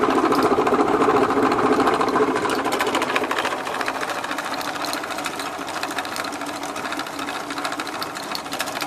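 Small electric motor in a 1/6 scale Dragon Sherman model tank, driving the track under load through its transmission without stalling, giving a steady close whine and rattle that eases slightly partway through.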